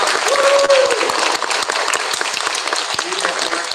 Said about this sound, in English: Let's go ahead and give a big round of applause.